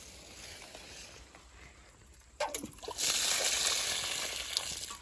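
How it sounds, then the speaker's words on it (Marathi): Water is poured onto cluster bean and chilli plants in a dry farm field. A quiet outdoor hush gives way to a sudden, close splashing gush that keeps running steadily to the end. "पाऊस नसल्यामुळे जास्त असं ओतायला लागतं झाडांना पाणी."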